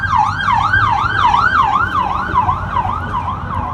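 A rapid yelping emergency vehicle siren passing, rising and falling about three times a second, loud and close, heard alone without voices.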